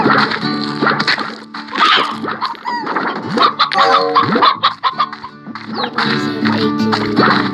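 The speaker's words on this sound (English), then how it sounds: "There's so many roosters." Many roosters in the Slime Rancher video game cluck and squawk in a busy, overlapping chorus, loud and close, with scratchy bursts throughout and no speech.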